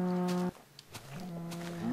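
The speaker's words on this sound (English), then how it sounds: "I'm killing cows with flowers." Cows mooing in the Minecraft video game: one long low moo, a brief pause, then a second drawn-out moo rising in pitch at the end, loud and close.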